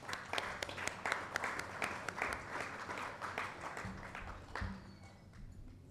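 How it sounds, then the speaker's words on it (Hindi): An audience applauds at an awards ceremony with a dense patter of claps that stays steady, then thins out and fades near the end. "please give a round of applause for her"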